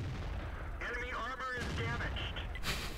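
Tank gun fire in the World of Tanks video game, a loud booming shot amid continuous engine rumble and battle noise, with game sounds layered on top.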